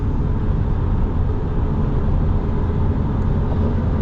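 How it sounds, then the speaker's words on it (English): A 2026 Ram 1500 Big Horn with a Hemi V8 rumbles steadily, a deep continuous low engine drone, close and fairly loud with no talking. "it sounds like a real truck"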